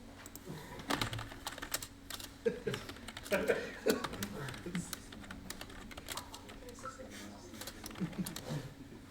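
Typing on a computer keyboard during an online call: irregular bursts of clicky keystrokes, fairly faint, interleaved with soft chuckles and a few spoken words.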